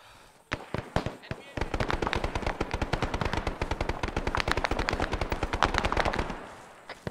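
A mounted machine gun in the ARMA 3 game fires long rapid bursts of sharp, evenly spaced shots after a few single cracks, loud and close, then stops abruptly; voices occur around the gunfire.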